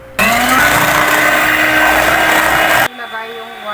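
An electric mixer whips four egg whites into meringue for an ube flan cake, running as a loud, steady high whine for nearly three seconds before cutting off abruptly, with a faint voice afterward.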